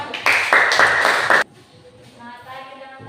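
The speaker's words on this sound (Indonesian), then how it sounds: "Oke, tepuk tangan untuk kelompok 1." A classroom audience applauds a student presenting group for a little over a second. The clapping is loud and dense, then stops abruptly, leaving quiet voices.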